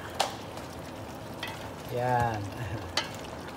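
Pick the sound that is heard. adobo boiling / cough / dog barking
adobo boiling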